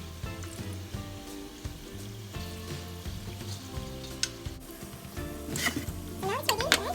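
Onion rings fry in hot oil with a steady, close sizzle, broken by clinks and scraping as the rings are turned, while a person talks over the cooking.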